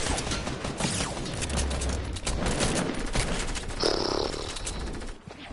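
Dense bursts of rapid gunfire in the Fortnite video game, loud crackling volleys running almost nonstop with mechanical clatter and a brief tonal effect near the end.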